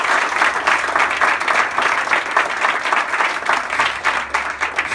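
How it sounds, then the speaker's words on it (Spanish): A crowd at a Venezuelan opposition press conference breaks into loud, sustained applause, dense clapping filling the room with a few faint voices mixed in. "Un aplauso para ese noble pueblo venezolano"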